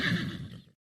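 A horse lets out one short, loud neigh that ends abruptly, close and alone in a brief burst.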